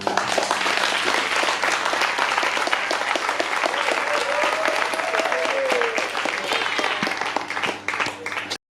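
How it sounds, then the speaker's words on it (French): Audience at an official wedding ceremony in a civil registry office breaks into steady, dense applause, loud and sustained for several seconds, with voices murmuring and a few calls mixed in before it tapers off at the end. "l'assistance ici présente de les applaudir fortement."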